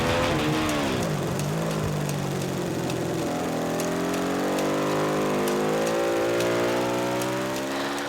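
An Aprilia SXV 550 race-derived motorcycle engine drones loudly and continuously, its pitch sweeping down and then climbing steadily as the revs rise, heard alone and close.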